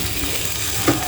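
Dosa batter sizzling in oil on a hot pan, a steady close hiss of frying with a brief scraping touch near the end.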